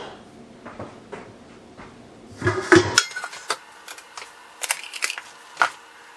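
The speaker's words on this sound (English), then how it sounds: "No, I'll get another bowl." A mixing bowl is fetched while sugar cookies are baked at home: soft handling sounds, then a sharp clatter of dishes and several clinks and knocks close by, with no talk.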